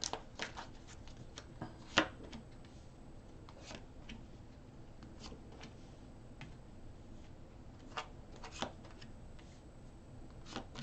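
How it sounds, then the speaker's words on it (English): Tarot cards are shuffled quietly at close range, with soft riffling and scattered light taps and flicks across a faint, steady background. "Let's do another couple shuffles."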